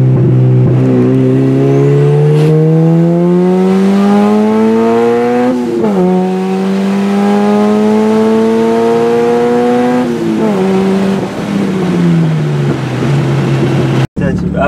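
Turbocharged Acura Integra, spewing coolant, accelerating hard on a pull: a loud, close engine note climbs steadily in pitch through two gear changes, dropping briefly at each shift before rising again.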